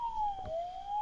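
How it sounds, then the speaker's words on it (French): A police siren wails steadily in a sliding, slowly falling-then-rising tone, loud and close, with a brief low thump partway through. "Mais il couvre notre sirène, littéralement."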